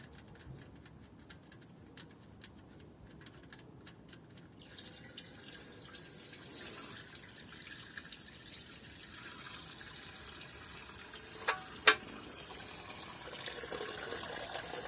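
Engine oil drains from an oil pan in a steady, faint trickling stream during an oil change, with a couple of brief metallic clinks partway through.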